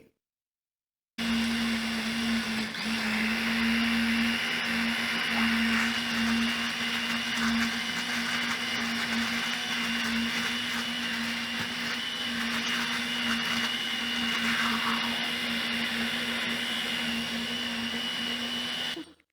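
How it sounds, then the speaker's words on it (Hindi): A blender purees jaggery, date and tamarind chutney pulp, running steadily for a long stretch, a loud continuous whirring motor with a grinding edge, close by and alone. "अब हम इसको ब्लेंडर के जग में डाल के ब्लेंड कर लेंगे"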